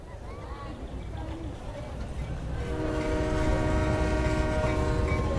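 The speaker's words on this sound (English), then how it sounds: "We've got a train." Train on the Madagascar railway, one of the steepest lines, rumbling closer as a low roar builds, then a sustained loud horn blast holds steady toward the end.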